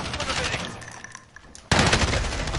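Gunfire in the shooter game Warzone erupts suddenly as a loud, dense burst of rapid shots after a quieter stretch of background game noise.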